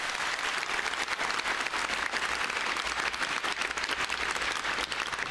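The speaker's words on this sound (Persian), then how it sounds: "هر دو گروه رو تشویق کنید." A studio audience at a pantomime league game show applauds both teams with dense, even clapping that holds steady for several seconds without a break.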